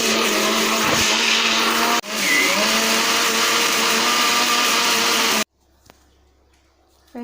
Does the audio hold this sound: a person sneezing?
no